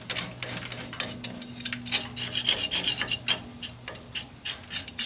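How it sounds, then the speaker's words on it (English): Old grease is scraped off a Load Trail trailer brake hub with rapid, rough rasping strokes that are close and loud, repeating irregularly throughout. "Scrape it all down."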